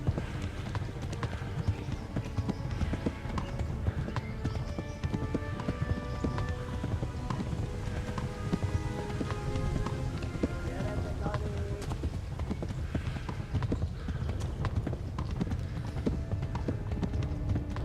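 A horse gallops in the medieval video game Kingdom Come: Deliverance, producing continuous rapid hoofbeats under voices and shouting during a chase.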